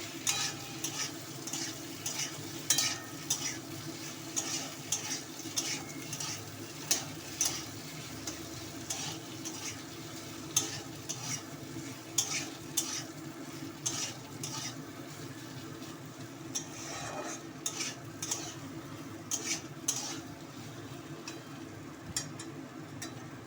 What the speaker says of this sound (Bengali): একটু আদা জিরে বাটা দিয়ে দিলাম দিয়ে একটু নাড়াচাড়া করে মশলাটা কষিয়ে দেব